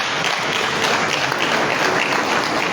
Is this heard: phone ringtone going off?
no